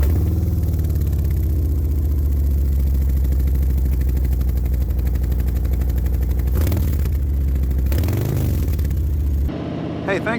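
Harley-Davidson motorcycle engine thumping steadily while riding, a loud, close low rumble with a couple of throttle swells before it cuts off near the end, with a voice talking over it.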